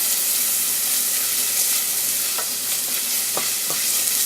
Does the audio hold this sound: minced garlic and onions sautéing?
yes